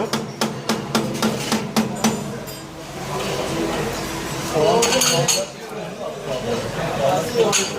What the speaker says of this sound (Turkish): Şöyle çorbamızı bir karıştıralım